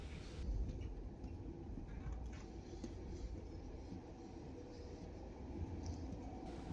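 Inside the Lovćen night train from Belgrade to Bar, a steady low rumble of rolling wheels and carriage noise fills the space, continuous and moderately loud, with no talk.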